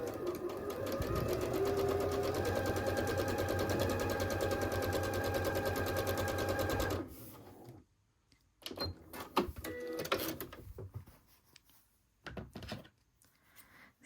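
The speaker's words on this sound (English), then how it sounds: "We're going to sew 1/4 inch away from that seam." A sewing machine runs steadily while stitching quilt block fabric, a close continuous whirring hum for about seven seconds, then stops, followed by scattered handling clunks and taps.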